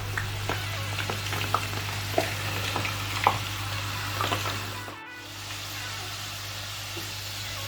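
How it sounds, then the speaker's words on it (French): Belgian fries sizzling steadily in hot oil during their second frying bath, a continuous close crackle with small pops and bursts, briefly cut near the end and then resuming. "Et deuxième bain d'huile."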